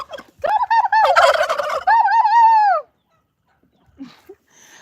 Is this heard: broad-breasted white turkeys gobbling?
yes